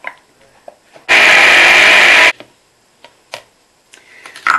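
A kitchen blender whirs loudly for just over a second, blitzing stilton and broccoli soup, then cuts off abruptly and is followed by a few small clicks and knocks close by.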